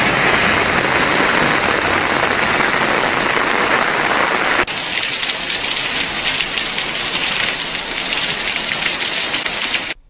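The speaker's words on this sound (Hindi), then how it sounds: "बागेश्वर में सुबह से ही बारिश हो रही है।" Steady rain pours in Bageshwar, a loud, dense patter on surfaces that shifts in tone midway and continues without a break until it cuts off.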